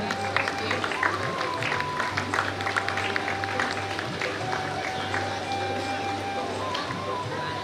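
An audience at a community award ceremony claps for a prize recipient, moderate applause running under a steady hum from the hall's sound system, with voices mixed in.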